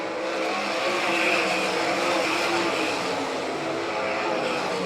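Dirt track race cars at Doniphan, Nebraska, in an All Stars versus NCRA event, roaring around the oval with a loud, steady, continuous engine drone that barely dips.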